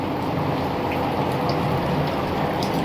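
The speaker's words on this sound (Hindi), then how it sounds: "इतनी तेज बारिश हो रही है।" Heavy rain pours down on a house at night while water leaks inside, making a dense, steady roar of drops hitting surfaces close by, with scattered patters and drips layered over the constant wash.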